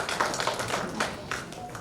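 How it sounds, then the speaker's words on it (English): Audience applause at a hernia surgery symposium, honouring Professor Manish Kapoor. A soft, steady patter of many hands clapping, moderately distant, with no talk over it. "I think he deserves a big round of applause."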